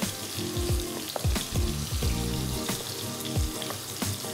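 Tomatoes sauté in a hot pan for a paneer butter masala, a steady loud sizzle and crackle throughout with occasional stirring scrapes and clinks, no talking.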